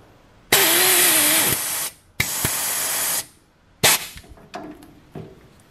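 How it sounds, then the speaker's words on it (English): A pneumatic rivet tool sets rivets in undercar bracing on a C4 Corvette coupe, giving loud, close hissing air bursts about a second long, with sharp clacks between them and shorter pops at the end. "we're going to start working on setting these rivets"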